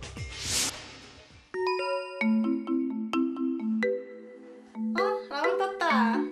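A phone alarm plays a bright, melodic ringtone of repeated chiming notes, loud and close, after a brief rushing whoosh at the start, with no talking.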